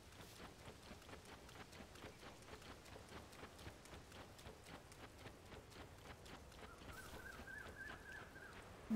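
Steady rain in the game Zelda: Tears of the Kingdom, a dense even hiss with soft pattering drops running the whole time, joined near the end by a brief rising tone.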